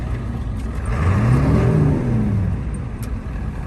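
A turbocharged early Ford Bronco engine is revved once, climbing from a rumbling idle to a swelling roar and falling back. It sounds close and loud, with no talk over it.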